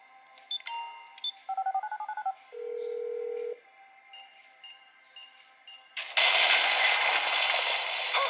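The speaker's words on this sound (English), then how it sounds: "I'm making the call." Phone dialing in the video game GTA 5, played on a Steam Deck: a run of quick electronic keypad tones, a steady dial tone, then softer beeps, before a loud burst of noise takes over.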